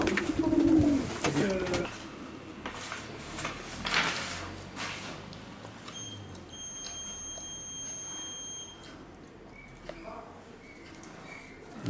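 Colombre Brionnaise pigeons cooing nearby, soft repeated coos among rustling and handling noises, with people talking intermittently and a brief high electronic tone midway.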